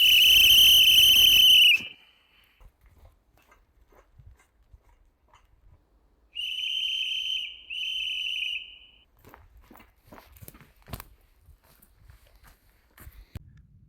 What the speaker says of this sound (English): If I clean it, it will whistle again, it will work again.